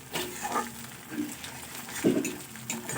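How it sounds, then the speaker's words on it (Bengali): Cumin, green chili and ginger frying in oil in a pan for a Bengali mixed-vegetable dish, with a soft sizzle under intermittent stirring scrapes and utensil clinks at close range. "জিরে কাঁচা লঙ্কার আদাটা আমি 2-4 মিনিট একটু তেলে ভেজে নেব, যাতে কাঁচা গন্ধটা চলে যায়।"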